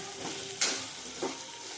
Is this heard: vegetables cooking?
yes